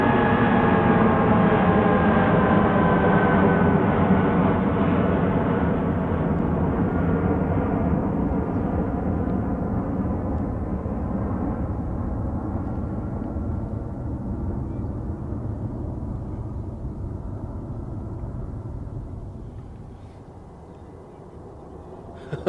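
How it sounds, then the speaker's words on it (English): A British Airways airliner thunders through its takeoff roll at Manchester Airport in icy conditions, the roar loud and broad at first, then slowly fading and thinning as it pulls away into the distance. "BA's on the roll."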